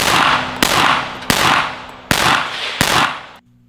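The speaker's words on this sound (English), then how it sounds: "we also got this PS90 on video that a viewer brought for me to shoot." Five loud, close gunshots from a PS90 rifle fired at a shooting meet-up, evenly spaced about two-thirds of a second apart, each sharp crack followed by a ringing decay into the next.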